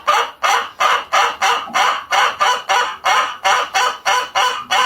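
A hen cackles loudly and close by, in a steady run of about a dozen evenly spaced squawking bursts with no other sound between them.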